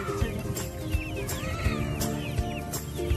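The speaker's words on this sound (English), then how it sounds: "Those are chicks." Chicks at a farm in Fayetteville, North Carolina, peep and cluck in a busy, overlapping flock, with high chirps and short calls repeating close by and no talk over them.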